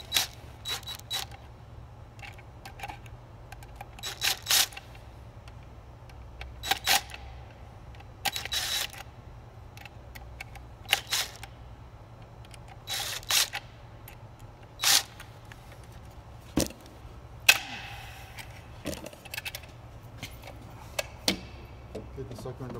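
A Phillips head screwdriver loosening screws on the base of a CE bus crossover mirror, giving sharp intermittent clicks and ratcheting ticks against a steady low hum, with brief talk in between.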